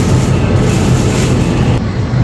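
Japanese commuter train running on rails toward Omiya, a steady loud rumble with low wheel-and-track noise throughout, close and continuous with no talk.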